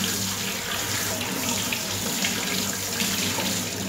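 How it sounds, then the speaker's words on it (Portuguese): Acerola fruits washed under running tap water in a kitchen sink, a steady unbroken hiss of flowing water at moderate loudness, close by and with no talking. "agora eu vou lavar em água corrente,"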